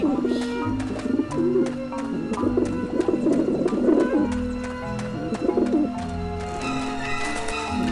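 Pigeons coo at a nest in the video game Grim Fandango, with repeated soft, throaty coos over a busy layer of game music and clicking tones, steady and close throughout.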